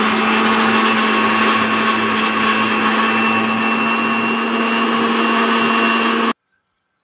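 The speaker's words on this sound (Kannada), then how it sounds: "ಪ್ಯೂರಿ ಟೊಮೆಟೊ ಪ್ಯೂರಿ ಮಾಡ್ಕೋತಾ ಇದ್ದೀನಿ." A mixer grinder purees quartered tomatoes with a loud, steady motor whine that runs for about six seconds and then cuts off abruptly into silence.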